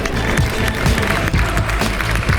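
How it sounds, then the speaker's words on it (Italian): An audience applauds at the Miss Italia Veneto beauty pageant at the Padova fair, a dense, steady patter of many hands clapping from nearby, holding for the whole stretch. "un applauso per lei"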